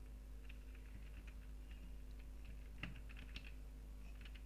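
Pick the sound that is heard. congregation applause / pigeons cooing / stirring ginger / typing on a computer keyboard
typing on a computer keyboard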